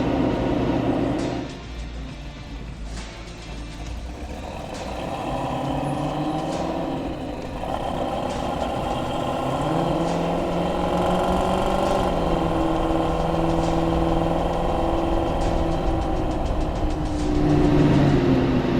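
A 1967 Ford Mustang GT500E Supersnake restomod engine runs steadily at low revs, a deep continuous rumble that swells slightly near the end, heard up close with no talking.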